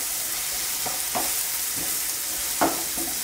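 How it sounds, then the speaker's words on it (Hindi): Onions roasting over a high flame for restaurant-style sambhar, a steady sizzle with a few soft spoon scrapes and taps against the pan, close and alone. "ये देखिए प्याज को एकदम अच्छे से भून लेंगे।"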